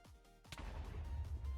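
Minecraft reactor exploding, a deep booming blast with a sharp onset followed by heavy low rumbling debris that rolls on after it, loud and close with no talk.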